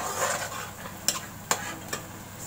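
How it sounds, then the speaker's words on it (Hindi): Masala for a homestyle dhaba-style chicken curry frying in a pan, a steady close hiss with three sharp clinks of a spoon against the pan as it is stirred. "इसको मसाले को मैं अच्छा सा भून लूँगी"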